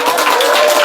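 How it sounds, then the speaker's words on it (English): A devotional evening gathering in the Philippines breaks into a brief, dense burst of group clapping, steady and fairly loud throughout. "Give the clap."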